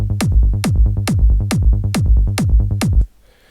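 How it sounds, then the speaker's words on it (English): Loud trance kick drums landing on each beat over a rolling sixteenth-note sub bass, punchy clicks and booming thumps layered on fast pulsing low notes in a steady groove, stopping suddenly. "And I'm going to play it in context with a kick."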